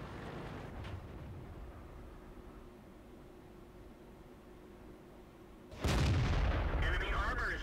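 A tank fires its main gun in World of Tanks. After a low, steady rumble of engine and ambience, a single loud, sharp boom cracks out near the end and rings on with noisy tail.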